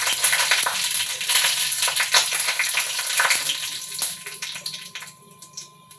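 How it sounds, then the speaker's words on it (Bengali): Whole dried chillies and mustard seeds spitting and crackling in hot oil for a Bengali mango chutney, a bright close sizzle with sharp popping seeds that fades toward the end. "তেল গরম হয়ে গেছে, গোটা শুকনো লঙ্কাটা দিয়ে দেব, সর্ষেটা দিয়ে দেব"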